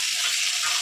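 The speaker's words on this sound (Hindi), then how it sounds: "एक मिनट हल्का फ्राई करब जे हल्का लाल गोल्डन ब्राउन भए" Ingredients lightly frying in a pan while making a stovetop pizza without an oven, giving a steady, close hiss of sizzling with no voices.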